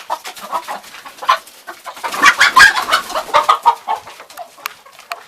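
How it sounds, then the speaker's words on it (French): Hens and a rooster cluck steadily and close by, a busy overlapping chorus of short calls with no talking. "Donc voilà les poules avec son coq."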